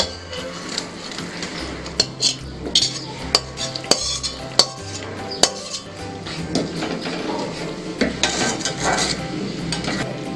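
Raw wood apple pieces for a Bengali-style murabba drop into a pot and get stirred, giving repeated sharp clinks and knocks of a utensil against metal over a steady low background.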